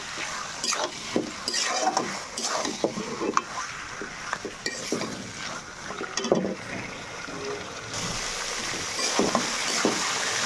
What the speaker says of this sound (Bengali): এই যে আমি ধুয়ে রাখা মাংসগুলো দিয়ে দেব। আর সুন্দর করে মিশিয়ে নেব।